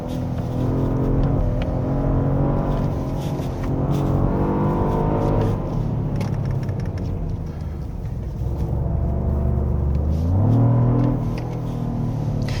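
A 2024 Genesis GV80 Coupe 3.5 Turbo drives a winding mountain road, its engine rumbling and rising in steady surges as it accelerates, with a loud revving climb near the end.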